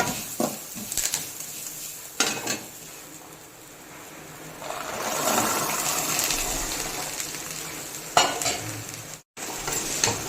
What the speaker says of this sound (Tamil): நல்லா ஒரு வதக்கி விட்டு வேக வச்சுருக்க கொண்டக்கடலையை சேர்த்து இறக்கிட வேண்டியதான்.